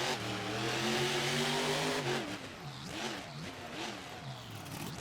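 Freestyle monster truck engine revving hard at a stadium show as the truck walks its two tires up and over a stacked bus, loud roaring throttle with rising and falling pitch, crowd noise beneath.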